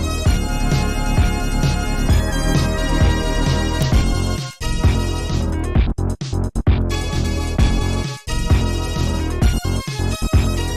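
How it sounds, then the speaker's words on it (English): The Pictionary theme from a video game plays as a dense, driving block-music riff, loud and continuous with a couple of brief drop-outs, with no talking over it. "God, I love the Pictionary theme."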